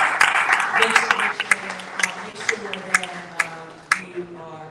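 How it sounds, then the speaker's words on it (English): Audience applause at a Virginia small business celebration held by Venture Richmond, with scattered sharp claps thinning out over a few seconds while a voice speaks over them. "Big round of applause."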